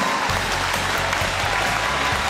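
Warm, continuous applause fills a television studio as guests are welcomed onto the stage of a Chinese job-hunting show, a dense crowd clapping evenly from start to finish.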